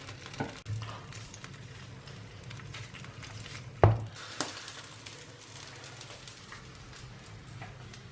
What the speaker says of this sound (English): I'm gonna throw a little bit more oil, and then I'm gonna break this egg in there.